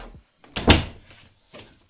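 A door closes over a swim cord loop hooked across its top edge, giving one sharp, fairly loud knock with a brief rattle and a couple of softer bumps afterwards.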